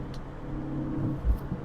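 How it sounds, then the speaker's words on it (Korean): A Mini Cooper JCW convertible takes a bend at high speed on a winding road, its engine a steady low rumble with a brief deeper surge near the end, no voices present. "지금 고속으로 코너를 돌고 있는데 휠 베이스가 짧고 차체가 가볍기 때문에 굉장히 경쾌하게 움직입니다"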